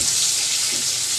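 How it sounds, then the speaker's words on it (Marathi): Phodni tempering sizzles hard in hot oil in a wok, a dense, steady crackling hiss that stays loud and close throughout, with no voices. "त्याच्यामध्ये तेल टाकून मी फोडणी देते. हे बघा मी आता फोडणी टाकलेली आहे."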